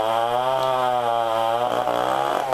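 A chainsaw mill cuts through a bur oak log, making 2 3/4 inch thick planks. The engine whines loud and close under steady load, its pitch dipping slightly as the bar bites deeper into the wood.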